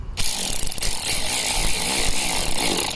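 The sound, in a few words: power tool driving screws on Audi A4 B8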